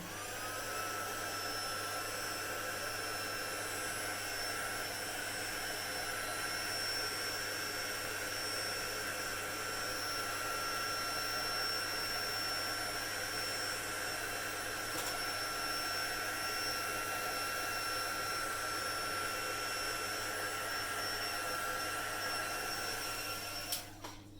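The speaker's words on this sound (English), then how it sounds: "So the heat gun's coming on again." A heat gun blows steadily to dry alcohol ink on a craft project, a constant whining hiss with a high tonal edge, unbroken for the whole stretch and cutting off at the end.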